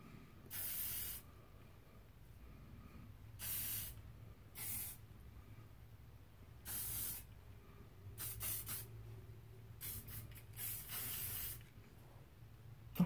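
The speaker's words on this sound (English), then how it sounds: "I'm gonna spray the front." Several short bursts of aerosol hairspray hiss close by, with a quick cluster of rapid puffs near the end, sprayed onto the front of curled hair between quiet pauses.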